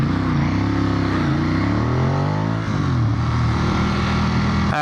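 A 2016 Ducati Monster 821 motorcycle engine revving and accelerating, loud and close throughout, the pitch rising then dropping at a gear change before climbing again.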